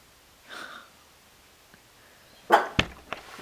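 A pet dog indoors gives a soft grumble early on, then a short burst of sharp, close barks and snorts near the end against quiet room tone.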